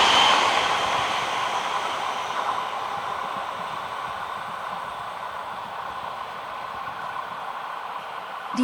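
A four-car RhB Allegra ABe 4/16 electric multiple unit, built 2011–2013, rolls past on the Rhaetian Railway network as a steady, broad rushing rumble that holds nearly constant, close and fairly loud, with no voices.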